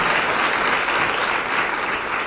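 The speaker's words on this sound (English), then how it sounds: "a big hand of applause for Councillor Ndzube." An audience at a girls' and young women's summit gives a councillor a round of applause, a dense, loud, continuous patter of clapping throughout.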